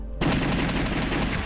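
Sudden start of rapid, repeated gunshots in the arcade shooter The House of the Dead, fired at crates, a dense fast burst continuing steadily after a quiet opening.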